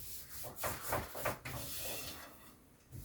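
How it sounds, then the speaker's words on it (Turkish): Wooden rolling pin (oklava) rubbing and rolling over thin yufka dough made only from flour and water, a run of soft rhythmic swishing strokes close by, with no voices. "Böyle döndürtüre döndürtüre gördüğünüz gibi hamurumuzu güzelce açmaya çalışıyorum"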